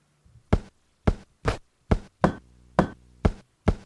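Toilet paper rustle samples played as a drum beat on a Pocket Operator PO-33 KO, giving eight sharp, punchy hits in a steady rhythm, close and dry, with a faint tonal hum beneath.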